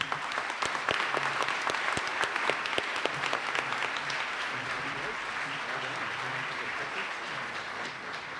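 An audience claps at a business awards ceremony, loud and crisp with sharp individual claps at first, then easing into a steadier, softer patter that carries on for several seconds.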